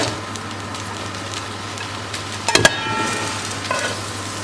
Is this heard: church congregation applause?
no